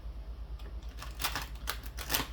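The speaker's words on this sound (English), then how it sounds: "I just shuffle. I don't know if you can see me shuffling." Oracle cards being shuffled by hand, several quick riffling bursts close up over a low steady hum, no talking.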